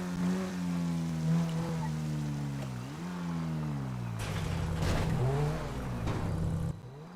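A car engine in GTA 5 Online drones and rises and falls as the revs climb and drop, with a rougher, busier burst of revving in the second half.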